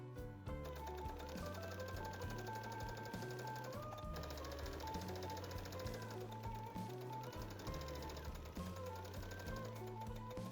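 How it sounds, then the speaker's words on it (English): A sewing machine runs steadily while stitching the side seams of a fabric top into a French seam. The motor keeps up a continuous whirring hum with rapid needle chatter throughout, close and alone, with no talking. "Press and stitch the sides again to create a French seam."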